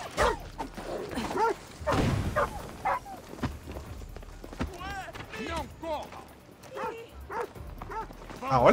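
Dogs barking in Assassin's Creed Odyssey, several sharp yaps scattered through the stretch amid game clatter and someone talking over them.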